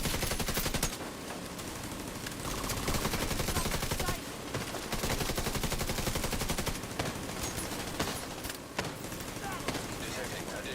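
A video game firefight packed with dense, rapid gunfire and blasts, a shotgun among the weapons, sounding loud and nearly continuous with short pauses and voices mixed in.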